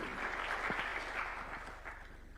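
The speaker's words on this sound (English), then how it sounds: "Kindly, let's welcome him with a clap." Steady applause from a large audience at a Kenyan State House event, welcoming the Cabinet Secretary, a continuous wash of clapping at moderate, even level with no speech over it.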